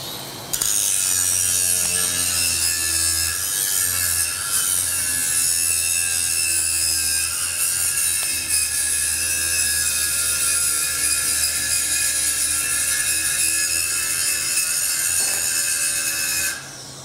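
Welder working on old rusty metal, making a harsh, loud, steady buzzing hiss with a droning hum underneath, running continuously for about sixteen seconds close by with no talking.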